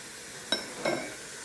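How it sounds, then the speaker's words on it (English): A spoon stirs pork neck bones and turnips in a pot, giving two quick metallic clinks a moment apart over a quiet kitchen background. "And I stir."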